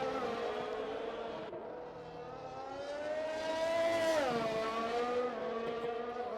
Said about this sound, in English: Pack Bussey is in the field in the Aston Martin. What kind of lap can he do?